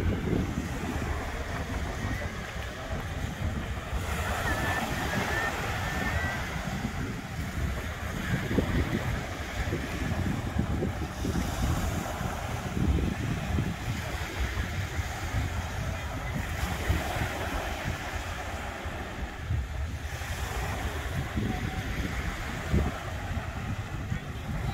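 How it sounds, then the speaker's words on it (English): A steady sea breeze blows at a beach at sunset, a continuous wind rush buffeting the microphone with surf rumbling underneath and no clear voices. "The breeze is blowing a little bit out here"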